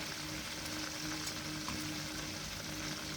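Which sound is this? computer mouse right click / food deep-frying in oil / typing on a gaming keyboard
food deep-frying in oil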